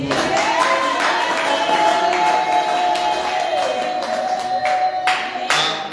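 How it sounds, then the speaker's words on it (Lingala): A church congregation cheers and applauds loudly at a joyful moment in the service, a dense, sustained wash of claps and shouts over a steady held musical tone. "Manifestez-les en acclamant très fort."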